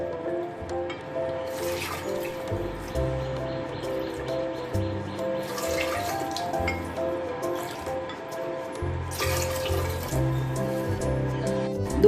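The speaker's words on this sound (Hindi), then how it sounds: "इसमें मैं 3 कटोरी पानी डाल दूंगी।" Water is poured into a pot of washed toor dal set to boil, giving a soft, continuous trickle and gurgle with a few sloshing bursts, close by and steady throughout.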